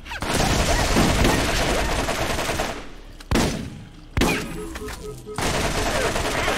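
Sustained rapid gunfire in the video game Borderlands plays loud and dense in several bursts separated by brief gaps, with a voice faintly present under the shooting.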